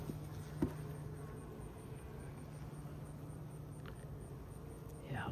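Steady low insect buzzing, a dense hum of many honeybees close by, continuous throughout with a few brief rustles and knocks.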